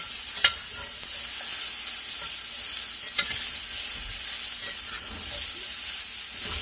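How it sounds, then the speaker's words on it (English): Green peppers and onions sauté in a pan, giving a continuous bright sizzle and hiss, with a few faint clicks of a utensil scattered through it and no voices. "we'll let that sit and let that saute for a few minutes and let all those green vegetables and onions get tender"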